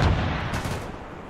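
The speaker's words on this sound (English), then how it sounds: "Nope, that's our mortar." A single heavy mortar blast from a friendly mortar in the military video game Arma 3, a loud close boom that rolls off into a fading rumble, with no talk over it.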